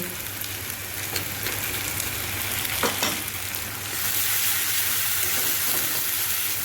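A pan of food sizzles steadily while a utensil scrapes and stirs with a few distinct strokes, and the sizzle swells louder partway through.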